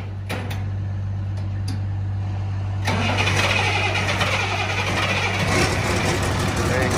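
A truck engine cranks and catches about midway after a key turn and button push, then settles into a loud, steady close-up idle as someone talks over it.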